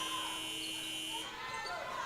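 A shot clock buzzer sounds in an arena during a women's basketball game against Point, a steady electronic drone that cuts off partway through, under crowd noise and a commentator's talk.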